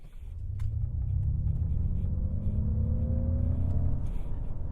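A Ford F-150 Lightning electric pickup launches hard under launch control. Its close, deep rumble holds steady while rising whine tones climb in pitch for several seconds, with no voices over it.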